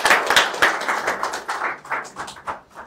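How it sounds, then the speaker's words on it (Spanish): Audience applause welcoming a doctor to the front of a breastfeeding course, a lively burst of many hands clapping fairly close by that gradually thins and softens toward the end. "Les pido un fuerte aplauso para la doctora Dulce Aguilar."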